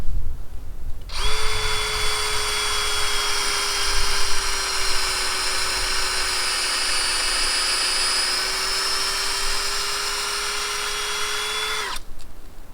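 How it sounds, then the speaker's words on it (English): A power drill bores a tap hole into a red maple tree, giving a loud, steady high-pitched whine that holds for about eleven seconds after a sharp start and then cuts off abruptly, with no talk. "Then I'll go ahead and I'll drill that hole."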